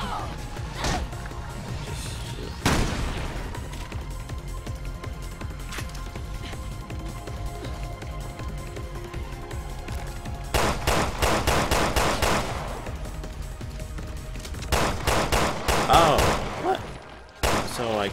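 Gunfire in Resident Evil Revelations 2, scattered sharp shots early followed by dense rapid bursts later, loud and close, with a voice speaking between volleys.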